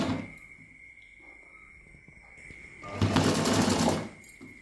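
A sewing machine runs a short reverse stitch through folded fabric: a steady mechanical whir with a brief first burst, then a louder, denser run of about a second near the end, close to the microphone with no talk.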